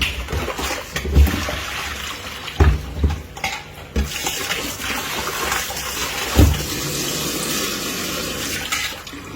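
Fish being washed by hand under running water in a home kitchen, a continuous gush of tap water with splashing bursts and clunks as the fish are rinsed.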